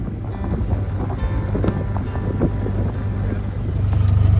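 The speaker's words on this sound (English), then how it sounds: "it's a beautiful spot, but it does mean we're very exposed to the wind" Wind buffets the microphone at an exposed canal-side narrowboat mooring. It gives a loud, continuous low rumble that swells toward the end.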